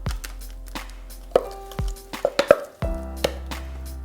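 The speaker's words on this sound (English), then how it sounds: "So now literally all we do is just spoon it into the loaf tin." Carrot cake batter is spooned into a loaf tin, with a metal spoon clinking and scraping against the tin in a series of short, close taps and ringing knocks, with no voices.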